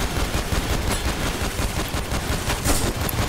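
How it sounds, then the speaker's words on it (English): Gunfire in the video game Synthetic: Legion Rising, rapid, dense bursts of automatic shots in a loud, continuous rattle with no pauses. "I shot through him and hit you a couple times there"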